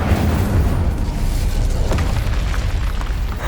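The Incendio fire spell in the Hogwarts Legacy video game, a loud, steady roaring burst of flame and rumble that fills the whole moment without letting up.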